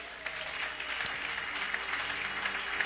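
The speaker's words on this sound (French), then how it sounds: "On acclame Jésus." A church congregation applauds during a Sunday service, a continuous wash of clapping that stays fairly soft and distant with no voices on top.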